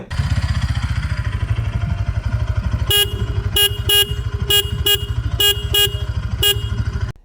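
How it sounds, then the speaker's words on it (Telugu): A 2026 Bajaj Pulsar NS 200 motorcycle engine idles loudly nearby while its single horn honks in a series of short, sharp beeps of varying length. "సింగిల్ హార్న్ అయినా సరే చాలా లౌడ్గా ఉంది సౌండ్, ఒకసారి వినండి"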